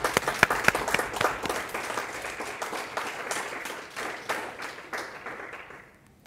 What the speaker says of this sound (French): je souhaiterais qu'on les remercie par des applaudissements nourris